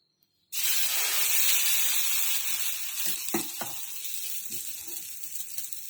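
Paratha-style roti, seasoned with green chilli, salt and ginger, sizzles on a hot pan, a steady close frying hiss that starts abruptly and carries on with a few soft crackles.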